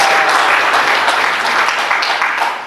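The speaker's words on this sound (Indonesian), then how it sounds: "Tepuk tangan." Steady, loud applause from an audience at a municipal scouting council working meeting in Malang, with dense clapping that holds for a few seconds and fades slightly at the end, no voices over it.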